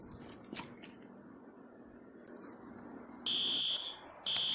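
Fire alarm pull station sounding in bursts: after a quiet stretch with a faint click, a loud shrill electronic tone blares for about half a second, cuts off, then starts again at the very end.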